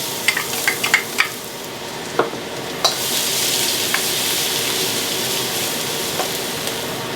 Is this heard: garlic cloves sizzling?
yes